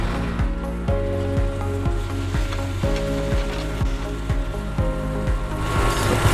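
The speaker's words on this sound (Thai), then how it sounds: "ผัดให้หอมเลยนะครับ หอมแล้วก็ใส่น้ำลงไปนิดหน่อยนะครับ" Thai wagyu beef stir-frying with black pepper in hot oil, a loud continuous sizzle broken by a regular series of sharp spatula scrapes against the pan, close and alone.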